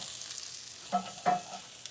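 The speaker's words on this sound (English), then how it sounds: "I'm just looking to sear the top of it" Mushroom searing in a hot frying pan while meaty stuffed mushrooms are cooked, giving a faint, steady sizzle with two brief louder bursts as the pan is stirred, with no talking.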